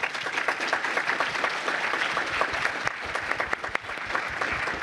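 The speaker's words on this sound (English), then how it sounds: "can we get a massive round of applause for them?" A conference audience applauds panelists after an AI discussion panel, a full, loud burst of many hands clapping that stays steady throughout with scattered sharper claps standing out.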